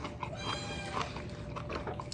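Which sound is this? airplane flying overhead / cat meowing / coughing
cat meowing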